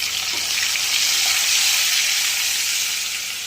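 Onions dropped into a pan with ginger-garlic-chili paste over low heat give off a steady, close sizzle and hiss that holds evenly throughout with no talk.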